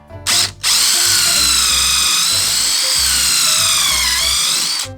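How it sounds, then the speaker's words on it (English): A power drill bores holes in used lumber, a loud, close, steady high whine that holds for several seconds after a brief opening burst, with no talking. "drill a few holes"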